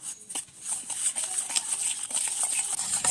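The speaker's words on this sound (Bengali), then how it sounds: "আমি 1 কাপ তেল, 1 কাপ চিনি দিয়ে ভালোভাবে মিশিয়ে নেব" Oil and sugar being stirred together for an eggless cake batter, heard as soft, close scraping strokes with light taps against the bowl.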